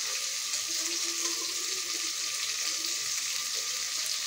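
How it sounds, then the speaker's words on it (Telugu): Tomatoes and green chillies fry in a pan for egg biryani, giving a steady, close, hissing sizzle that runs unbroken and evenly loud throughout. "టమాటాలు, పచ్చిమిరపకాయలు వేసాను. ఇదిగోండి వేగుతూ ఉన్నాయి కదా."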